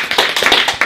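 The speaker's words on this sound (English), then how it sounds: "let's give her all a hearty round of applause for the great achievement" A burst of hearty applause for a speaker's achievement, a brief flurry of many close hands clapping at an even, busy pace.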